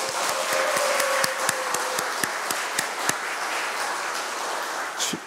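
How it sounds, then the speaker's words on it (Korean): An audience at a Catholic retreat claps for several seconds, a dense wash of hands with sharper individual claps standing out, fairly close and steady before tapering off. "박수 한번 쳐드리죠."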